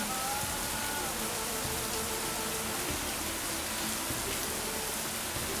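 Heavy rain pours down as a dense, continuous hiss that stays steady and fairly loud for the whole stretch, with no other distinct sounds standing out.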